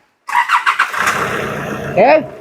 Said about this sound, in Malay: Coba start engine.